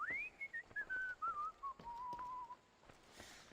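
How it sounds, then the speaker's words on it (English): A person whistles a single long, gliding tune that starts high and slowly drifts downward, clear and close, with no talk over it, fading out near the end. "And he knows how to whistle."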